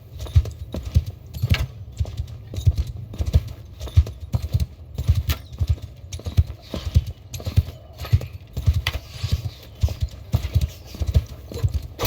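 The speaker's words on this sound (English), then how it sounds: "Because we have a saddle horse and not a stumpler." A saddle horse gallops in the Bannerlord 2 video game, its hooves beating a loud, steady, rhythmic clip-clop that runs unbroken from start to finish.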